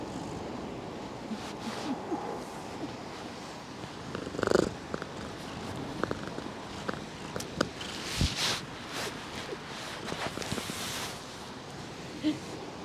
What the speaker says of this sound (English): we're being overtaken by a cat